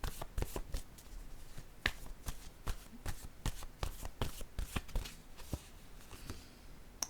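Word cards from a French affirmation deck being shuffled by hand, a quick run of crisp riffling slaps and flicks repeating close up, with no talking.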